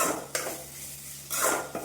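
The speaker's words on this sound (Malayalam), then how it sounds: "എന്നിട്ട് നമുക്കൊന്ന് ഇളക്കി കൊടുക്കാം" A spoon scrapes and clinks against a pan stirring a jackfruit stir-fry in two short bursts, with a quiet pause between and no talking.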